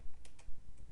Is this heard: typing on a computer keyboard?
yes